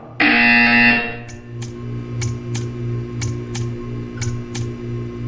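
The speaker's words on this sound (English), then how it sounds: "You will hear a buzzer." A loud, continuous electronic buzzer blares for nearly a second in the Portal 2 video game, followed by a string of sharp, evenly spaced clicks or ticks over a steady low hum.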